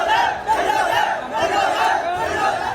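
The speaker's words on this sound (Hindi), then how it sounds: "भीड़ उग्र हो रही है।" An angry street protest crowd shouts and chants in loud, overlapping waves of voices that rise and fall without pause.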